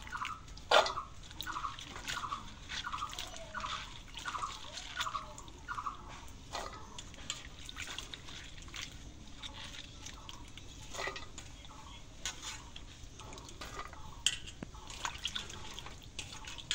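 Chopped potato vines are rinsed in water for a traditional village dish, giving soft splashes, drips and trickles in an uneven rhythm, fairly quiet and close, with no talking.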